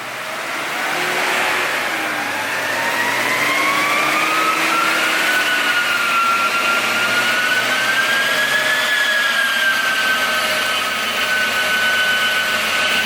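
A Nissan R32 GT-R with a brand-new 2.8 engine makes a dyno pull, its loud engine note rising steadily in pitch with a whining tone, then holding high and near for several seconds.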